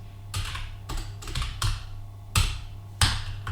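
Computer keyboard typing while coding in Java, close-up bursts of quick clicky keystrokes in short irregular clusters with brief pauses, and no voices.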